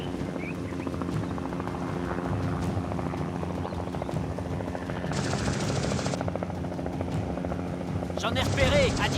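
Aircraft, apparently a helicopter, flying overhead during an aerial wildlife hunt, a steady droning rotor and engine rumble that persists throughout, fairly loud and close, with faint voices and brief noise bursts layered over it.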